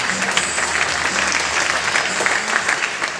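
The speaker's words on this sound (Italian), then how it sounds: "vorrei un bel applauso, grazie." An audience in a theatre, the Teatro Sociale Villani in Biella, applauds during a fashion evening with a dense, even wash of clapping that carries on unbroken and fairly loud.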